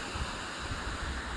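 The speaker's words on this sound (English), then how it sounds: "Along the river, you can hear the river." Steady rushing water from a river in Albarracin, Spain, with a constant, even wash of moderate loudness and a faint low rumble, heard alone.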